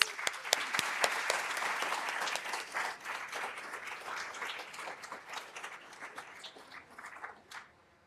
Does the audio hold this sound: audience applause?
yes